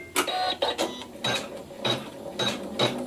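An embroidery machine stitches a zigzag over a piece of wool, a close, rhythmic mechanical whirring in quick bursts with short pauses between, no talking.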